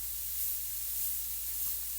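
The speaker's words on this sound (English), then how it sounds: "It's spraying out there." An airbrush sprays paint with a steady, soft hiss that runs continuously throughout, close and fairly quiet, with no voices.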